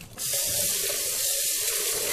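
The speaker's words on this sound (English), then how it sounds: "Pour the soapy water over the lid and rinse well." Soapy water poured over a Vitamix Professional Series 750 blender lid and rinsed gives a steady, close rush of running water that starts suddenly and keeps going without a break.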